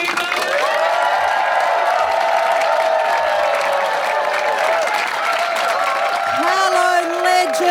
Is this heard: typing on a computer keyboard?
no